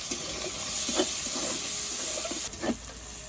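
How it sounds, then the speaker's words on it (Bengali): Onion, garlic and slit green chilies fry in hot oil for a prawn and water spinach dish, giving a steady close sizzle and hiss with a few soft stirring knocks. "পেঁয়াজ রসুন আমি ভালো করে ভেজে নিয়েছি।"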